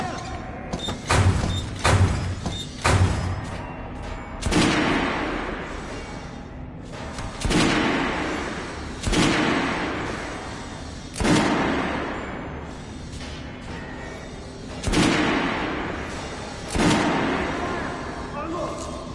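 Gunfire in the video game Metro Last Light: a rapid cluster of sharp shots early on, then heavy booming blasts every couple of seconds with rumbling tails, loud and mixed with game voices.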